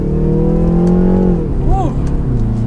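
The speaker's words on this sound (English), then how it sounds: "You can hear the exhaust just a little bit" A 2019 BMW 330i M Sport's steady engine drone with a low exhaust note rising as it accelerates in manual mode, then dropping in pitch around a gear change, with a voice briefly over it.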